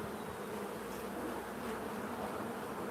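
Honey bees buzz steadily around an open beehive during an inspection, a continuous dense hum close by with no talk.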